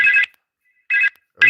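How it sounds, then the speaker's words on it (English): A phone rings with an incoming call on a hotel patio, sounding in short electronic bursts separated by silent gaps, loud and close, with no talk over it. "Somebody tried to call me on this phone"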